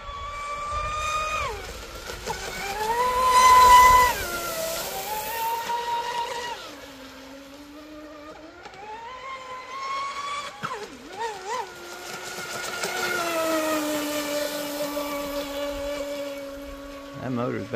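A small RC boat with a TP motor runs at full speed, its electric whine rising and falling in pitch as the throttle changes, steady and fairly close, with a voice briefly heard over it.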